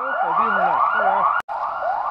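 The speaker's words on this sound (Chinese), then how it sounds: "这警报声音就是车上放的，" A rising and falling electronic siren wails from a vehicle's loudspeaker during a search for a missing person in the Greater Khingan forest. It plays loud and continuous, with a brief cutout near the end, and no voices are heard.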